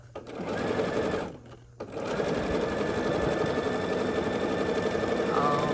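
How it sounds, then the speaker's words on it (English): A sewing machine stitches a quarter-inch seam on a quilt block, a fast steady mechanical whir running close and loud, broken by a brief pause before resuming. "we're gonna continue sewing here with the 1/4 inch seam allowance"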